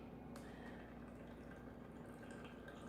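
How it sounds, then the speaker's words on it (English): Cooled liquid is poured steadily into a watermelon margarita mixture, a quiet continuous trickle and splash with a low hum behind it and faint drips scattered throughout. "I'm going to go ahead and pour it in with my watermelon mixture"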